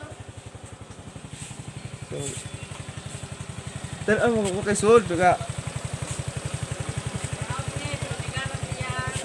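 A Suzuki Skydrive Sport motorcycle engine idles nearby with a steady, rapid putter, its revs briefly rising midway, while people talk over it.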